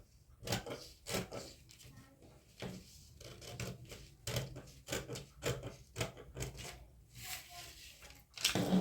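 Scissors cutting out a fabric pattern for a spaghetti-strap summer dress, with repeated crisp snips and rustling cloth in uneven bursts, under a soft voice at times.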